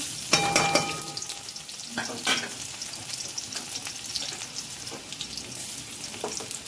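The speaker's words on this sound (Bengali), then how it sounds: "পেঁয়াজটা ভাজা ভাজা হবে" Onions fry in hot oil in a wok, a steady close sizzle with a few sharper crackles and scraping stirs.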